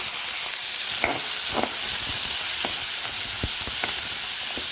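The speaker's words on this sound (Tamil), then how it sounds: "வெங்காயத்தை சேர்த்துக்கோங்க கருவேப்பிலையை சேர்த்துக்கோங்க" Onions and curry leaves sautéing in oil for sambar, a steady broadband sizzle with scattered clicks and scrapes of stirring, close and moderately loud, no voices.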